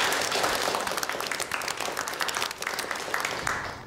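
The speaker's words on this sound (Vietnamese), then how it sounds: "Vỗ tay chào mừng." Applause from a small group welcoming a new member to a school Go club, a dense, steady patter of clapping lasting several seconds with little else heard.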